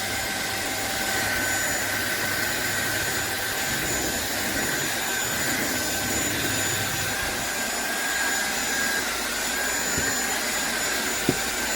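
A SunSare 600W cordless stick vacuum cleaner runs continuously with a steady, high-pitched whine and airy rush, close and fairly loud, with a couple of brief knocks near the end.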